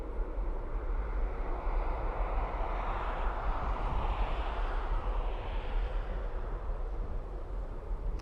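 A jet airliner takes off at Dublin Airport, heard as a steady, loud, broad engine roar with rumble that swells slightly and holds across the whole stretch, with no talk over it.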